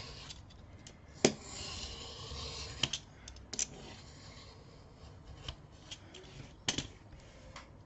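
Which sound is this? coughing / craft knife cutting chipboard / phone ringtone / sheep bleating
craft knife cutting chipboard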